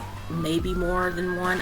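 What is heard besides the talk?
siren passing outside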